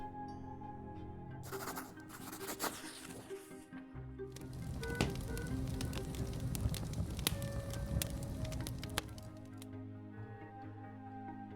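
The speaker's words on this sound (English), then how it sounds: "The last of your sister's poetry burns away in the fireplace." Poetry pages burning in a fireplace in The Life and Suffering of Sir Brante game, a soft crackling and popping fire with scattered small snaps, quiet and continuous over a faint sustained musical tone.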